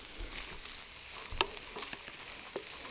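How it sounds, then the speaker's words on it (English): Corn mixture being stirred in a pan on the stove, giving soft, quiet scraping and light sizzling with a sharper scrape near the middle and another brief one near the end, no voices. "So just giving this a stir, letting it marry together"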